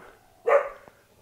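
A single dog barks once at a Hangdong market in Chiang Mai, Thailand, a short, fairly loud bark at mid-distance over quiet background noise.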